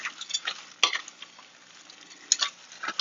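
Peanuts fry and get stirred in a pan, a soft sizzle broken by scraping stirs and a couple of sharp utensil clinks against the metal.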